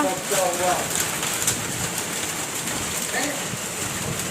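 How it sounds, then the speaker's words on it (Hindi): Heavy rain drums on a tin roof in a steady, dense hiss that runs throughout, with voices talking faintly underneath at times. "इतनी बारिश नहीं आती जितनी है टीन थड़ थड़"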